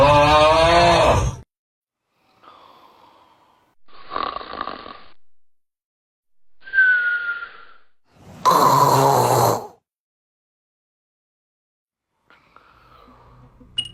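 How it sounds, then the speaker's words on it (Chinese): Five kinds of snoring recorded in sequence: separate loud rasping snores and softer rattling breaths, each burst followed by long silent gaps between them, close and isolated. "现在给大家5种鼾声"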